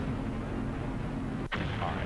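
Dense, sustained booming in the video game Project Nomads as a player's turret fires, with one brief dip and a sharp crack partway through.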